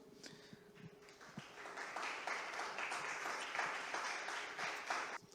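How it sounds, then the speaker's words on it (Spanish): Audience applause swells from scattered claps into a steady, full round of clapping from a crowd, holding for several seconds before dropping off at the end. "Le damos un fuerte aplauso."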